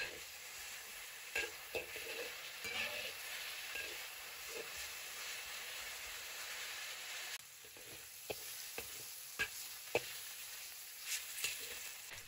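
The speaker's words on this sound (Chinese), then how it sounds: "油脂煸炒出来后，把它煎得稍微焦黄一些" Cauliflower stir-fries in rendered pork fat, browning in a wok with a continuous loud hiss and sizzle, punctuated by sharp spatula clacks and scrapes, all close and without voices.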